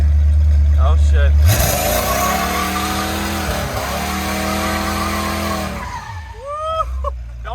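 A twin-turbo small-block Chevy rat rod does a loud, close burnout: the engine roars up and holds a sustained howl with tire squeal for several seconds, then drops off as people shout excitedly nearby.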